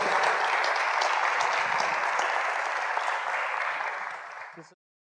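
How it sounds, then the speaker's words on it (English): A church audience applauds invited guests, a dense, steady wash of clapping that holds at full strength for several seconds before thinning and stopping abruptly. "Will you give my guests a hand?"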